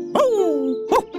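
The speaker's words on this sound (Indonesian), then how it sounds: "ia berhenti dan menggonggong tanpa henti" Dog in an animated Indonesian children's story, giving two short yelping barks with a whining, falling tone, close and clear, the second bark answered by a shorter yip.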